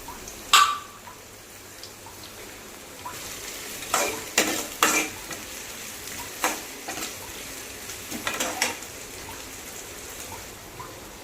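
Half a chopped tomato hitting hot oil in a pan for a Kumbakonam kadappa side dish, with soft sizzling, several sharp spatula scrapes and stirs in bursts, and a quiet kitchen in between.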